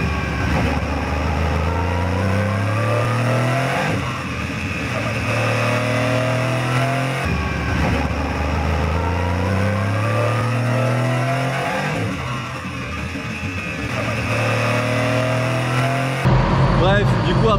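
An Aston Martin GT3 race car is driven hard around a circuit, its engine note heard from onboard as it climbs through the revs, drops sharply on each upshift or lift and climbs again, loud and continuous throughout.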